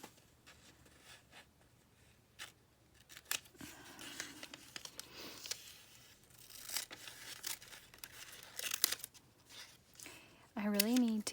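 Scissors cut up paper pieces during a journaling session, giving quiet, scattered snips with paper rustling and crinkling between them, faint and close.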